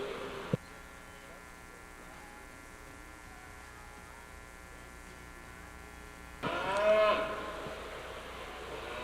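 Shorthorn bulls in a livestock show ring give a long, steady low moo after a brief knock, then a rougher burst of bellowing and arena noise toward the end.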